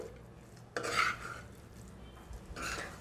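A spoon scrapes and stirs peanut powder through sago upma in a pan, two short scraping strokes against the metal with quiet pauses between, no talk.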